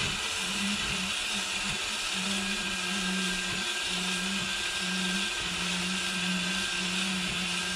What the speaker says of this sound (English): So what we want to do is just deglaze it.